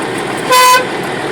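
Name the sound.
Scania 111 truck horn honking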